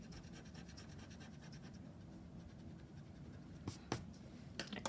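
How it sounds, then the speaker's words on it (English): Pencil eraser rubbing stray lines off drawing paper, a soft continuous scratchy scrubbing close up, with a few sharper brief strokes near the end. "Erase our little strays."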